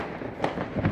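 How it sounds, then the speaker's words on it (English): Fireworks bursting over New Orleans on New Year's Eve, heard from a porch: a steady crackling barrage with two sharper booms standing out, distant to mid-range and continuous. "as you can hear, there are fireworks all over the city of New Orleans"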